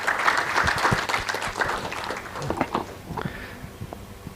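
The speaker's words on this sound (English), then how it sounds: "a big thank you, round of applause to the audience here" An audience at a health care and pharma summit applauds, dense clapping that is loudest at first and then gradually thins and fades out.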